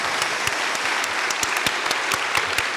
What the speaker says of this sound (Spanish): lo despedimos a Marcos con un fuerte aplauso.